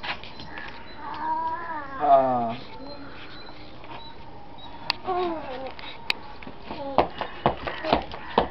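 A cat meows and caterwauls in several drawn-out, wavering cries spread across the stretch, with sharp clicks and knocks in between, fairly close in a room.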